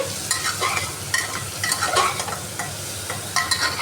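Spices, including cumin, sizzle in a hot pan for a chicken dish while being stirred, with a rhythmic scrape and clatter over a constant close frying hiss.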